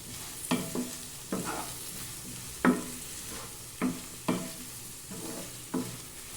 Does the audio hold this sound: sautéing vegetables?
yes